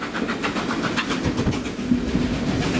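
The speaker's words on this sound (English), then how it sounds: "trains can now thunder up here at 25 miles an hour or more" A steam train on the Bluebell Railway rumbles past at around 25 miles an hour, close and loud, with rhythmic clattering over the track and a dense low roar throughout.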